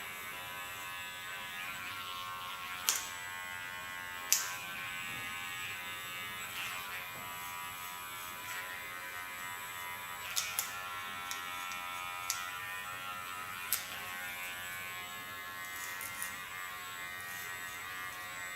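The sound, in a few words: electric hair clipper shaving side of head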